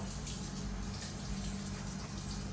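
Water is poured steadily onto an old French stick bread topped with passata for a cheap home pizza, giving a continuous close running and splashing wash with no pauses.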